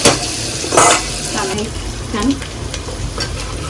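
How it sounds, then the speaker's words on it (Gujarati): Onions fry in hot oil with popping mustard seeds, giving a loud, steady sizzle broken by sharp crackles and a few stirring scrapes. They are being cooked as the base for stuffed brinjal, and no one speaks. "રાઈ ફૂટી જાય તો એની અંદર કાંદા નાખીને કાંદા થોડા બ્રાઉન જેવા થવા દેવાના"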